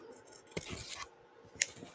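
Cheap small scissors snip through embroidery stabilizer, a few quiet crisp cuts with a sharper click near the end, close but faint against a hushed background.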